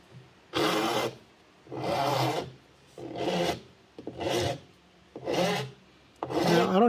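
An Anvil laminate file rasping across laminate in upward strokes: six rhythmic, evenly spaced scratchy passes, close and fairly loud, with short quiet gaps between them.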